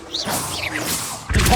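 A Depulso spell goes off in Hogwarts Legacy: a swirling magical whoosh with a rising shimmer, then a loud, sudden blast near the end.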